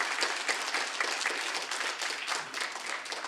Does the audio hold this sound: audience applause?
yes